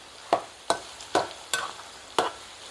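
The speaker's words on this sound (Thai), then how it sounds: "ตอนนี้ก็คนไปเรื่อยๆก่อน หมูเขาจะได้สุกสม่ำเสมอกัน" Sun-dried pork fries in a pan while a utensil stirs it, making five evenly spaced scraping strokes over a low, constant sizzle, with no talking.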